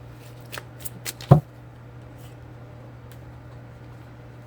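Tarot cards shuffled by hand, a few soft riffles and slaps with one louder card tap near the middle, over a steady low hum and no talk.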